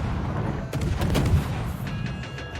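Naval gunfire from warships in World of Warships rings out in a short burst of several deep booms close together, with faint game effects in the background.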